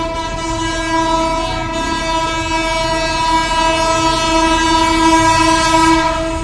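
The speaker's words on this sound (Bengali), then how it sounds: "খুব জোরে সরে হর্ন দিয়ে যাচ্ছে লোকোমোটিভ ছেষট্টি ছত্রিশ" A loud, sustained diesel locomotive horn blares continuously at close range on the Banalata express from Chapainawabganj to Dhaka in Bangladesh, with the rumble of the passing train underneath.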